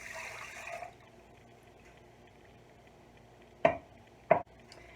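Water pours into a pot holding rice for about a second, a bright rushing splash at the start, followed by quiet and two sharp clanks near the end.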